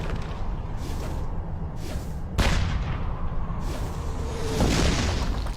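Artillery fire in a Battle of Kursk battlefield scene: heavy, rumbling booms over a constant dense roar. One sharp, loud blast cracks out midway, and a second rolling boom follows near the end.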